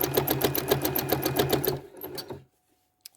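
A sewing machine stitches long, deep free-motion loops across a quilt sandwich, its rapid needle chatter pulsing in quick even bursts, then slowing and stopping, followed by near silence and a faint click.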